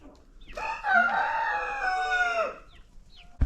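A backyard chicken crows loudly and close for about two seconds, followed by quieter clucks and a brief knock at the end.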